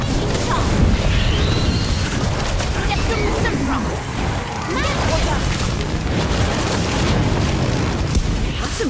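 Spell explosions in the video game Harry Potter: Magic Awakened, dense booming blasts and crashing effects layered over each other continuously, loud and busy, with game voices mixed in.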